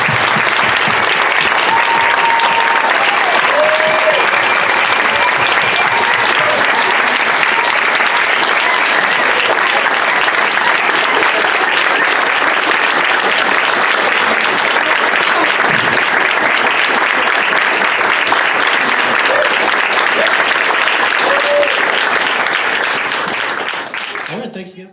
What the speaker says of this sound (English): let's just hear one more round of applause for these guys